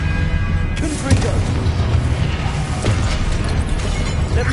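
A Confringo blasting spell cast in Hogwarts Legacy, with booming bursts and mechanical clatter of a magical fight layered over continuous game ambience.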